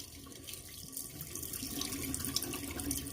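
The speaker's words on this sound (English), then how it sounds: "Let me rinse the face off, get the hair off." Tap water runs steadily into a sink while a freshly shaved face is rinsed, a continuous close hiss with faint splashing and no talk.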